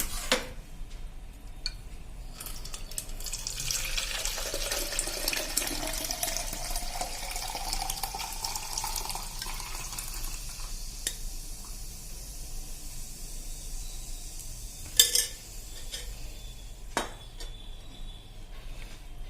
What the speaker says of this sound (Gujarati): 24 કલાક પછી આ રીતે આપણે ગાળી લેશું.